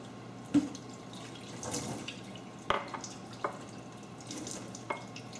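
About a quarter cup of water pours quietly into a measuring cup for cupcake batter, with a few sharp clinks and taps in a calm kitchen.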